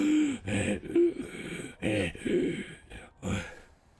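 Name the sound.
heavy breathing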